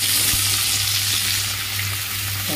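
Capsicum fries in hot white oil, giving a loud, even, continuous sizzle close by over a low steady hum, with no voices.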